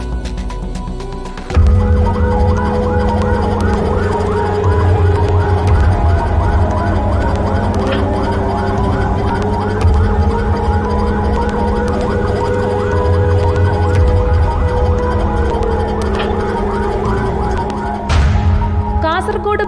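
An ambulance carrying a stroke patient from Kasaragod to Kanhangad hospital wails along the road, its siren cycling loudly and continuously over traffic rumble, with an engine and passing vehicles close by.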